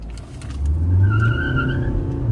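A 2021 Kia Sonet HTK+ diesel automatic pulling away, with a steady low engine rumble rising as it accelerates, plus a faint tire squeal partway through, close and without speech.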